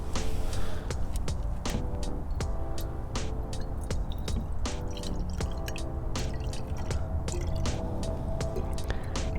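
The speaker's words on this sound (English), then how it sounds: "I've got my Erlenmeyer flask set up here, and I'm going to start by adding our hydrogen peroxide." Thirty percent hydrogen peroxide poured into a glass Erlenmeyer flask makes a steady stream of close, quiet liquid trickling and dripping, with small splashes and clinks throughout.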